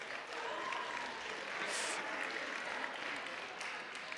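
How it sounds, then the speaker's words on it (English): An audience at a science show applauds for a few seconds, a dense, even wash of clapping from a crowd in a hall. "Big applause."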